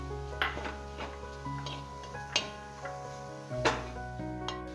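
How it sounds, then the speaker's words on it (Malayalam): Dates being stirred into payasam in a pan: a spoon gives a few scattered clinks and scrapes against the metal over a quiet background hum. "ഇതിലേക്ക് നമ്മൾ എടുത്തു വെച്ചിരിക്കുന്ന ഈത്തപ്പഴം കൂടെ ഇട്ട് നല്ലതുപോലെ ഒന്ന് മിക്സ് ചെയ്യും"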